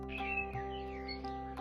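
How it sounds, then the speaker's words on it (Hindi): Several faint forest birds chirp and whistle in short, rising and falling calls. They sit over a quiet, steady tonal drone in a calm morning setting. "चारों ओर से अलग अलग पक्षियों का संगीत शुरू होता है।"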